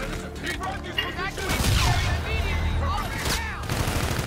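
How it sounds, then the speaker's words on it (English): Rapid bursts of gunfire and booming blasts in Call of Duty: Infinite Warfare as ship guns shoot down an enemy fleet, loud and continuous, with voices talking over it. "Using our Aedis guns to shoot down the fleet."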